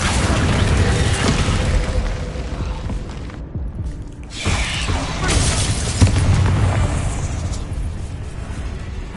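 Incendio fire spell cast in Hogwarts Legacy on PS5, heard as dense roaring whooshes and booming bursts that fill the scene, with a brief dip before another surge; a voice speaks spell names under the effects.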